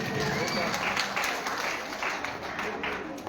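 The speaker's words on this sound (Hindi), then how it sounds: "अहिरावण के पात्र भाई पीछू को जोरदार तालियां" Audience applause for the actor playing Ahiravan at a Ramlila performance in Jaihrikhal, Uttarakhand, dense continuous clapping from a crowd with voices mixed in, holding steady before easing slightly.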